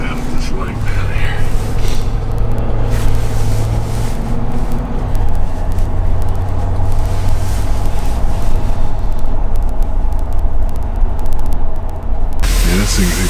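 A 2020 Ford pickup with the 6.7 Power Stroke diesel drives along a lane, a steady low engine drone and road rumble heard from inside the cab, with a voice speaking over it.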